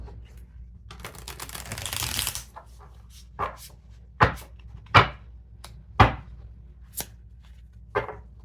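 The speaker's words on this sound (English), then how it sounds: "Feel free to fast forward through the shuffling if you like." A deck of Rider Waite tarot cards is shuffled up close, a dense riffling burst followed by several crisp, separate taps and slaps of cards being squared and laid down.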